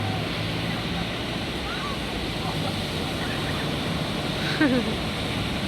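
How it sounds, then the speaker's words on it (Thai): Rolling sea waves break continuously on the beach at Laem Mae Phim, a steady roaring wash of surf with wind noise across the whole stretch. "ดูดูคลื่นลูกนั้นนะ"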